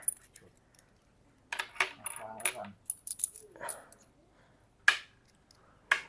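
Aluminum cartridge casings for a real-wood Kar98K bolt-action airsoft rifle are handled, giving sparse bright metallic clinks and short jingling rattles separated by near-silent pauses.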